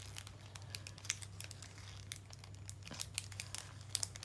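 Plastic packaging of a journaling kit crinkles and rustles as it is pulled open by hand, close and quiet, with sharper crackles near the end and no talking.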